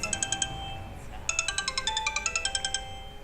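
A phone rings with an incoming call, a bright electronic ringtone beeping in quick repeated bursts. A short first run is followed by a brief pause, then a longer run, all clear and close.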